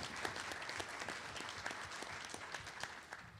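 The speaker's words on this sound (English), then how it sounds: "So let's give a round of applause to Tammy Elliott, just a true professional." Conference audience applauding, a dense crowd of clapping hands that is steady and fairly distant, with no voices over it.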